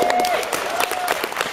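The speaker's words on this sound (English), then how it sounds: "I don't know whether it's patronising to clap that or not." An audience claps in a steady, dense patter through the whole moment, with some crowd noise and a tonal sound running underneath.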